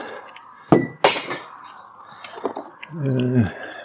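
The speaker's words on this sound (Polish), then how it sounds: "no i teraz będę wrzucał szkło, będę wrzucał do tego oczywiście" Glass bottles are dropped into a street recycling container in Spain, giving a couple of sharp clinking, breaking impacts followed by a rattling tumble, close by with faint background noise.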